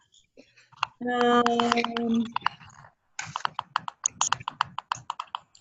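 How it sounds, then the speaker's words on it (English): Quick keyboard typing, a burst of clattering keystrokes near the start followed by a pause, then more scattered key taps toward the end. "someone's typing"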